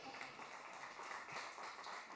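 Faint applause from a lecture audience at an MIT Future of Work event: a steady, distant wash of many hands clapping for about two seconds, with no talking over it.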